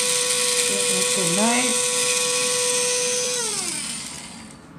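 An electric grinder whirs loudly in a home kitchen as food is ground, its motor pitch wobbling and climbing before winding down, with a brief voice speaking over the start.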